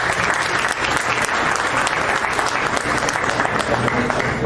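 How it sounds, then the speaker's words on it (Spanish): Steady applause from an audience at a talk on high-altitude pastures and phenology-based grazing, a dense, even patter of many hands sustained throughout. "Le damos un aplauso a don Luis y le agradecemos."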